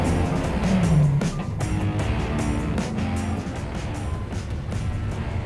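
Lamborghini Aventador with its V12 engine, heard from inside during a ride along as a steady, loud engine drone and road rumble that swells early and then holds, with no one talking.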